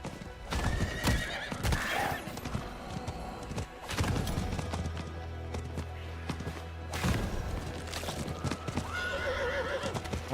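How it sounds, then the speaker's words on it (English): Steady clip-clop of horse hooves with repeated whinnies and neighs, loud and close, over a busy game-like soundscape with occasional thuds, while riding a horse in Diablo IV. "at least I have the horse, so it's a little bit faster with the horse"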